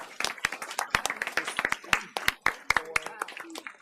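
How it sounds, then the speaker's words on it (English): A small audience at a school board meeting claps for departing board members, scattered distinct handclaps of uneven rhythm rather than a full ovation, close and moderately loud, with some voices mixed in. "So let's give them a round of applause."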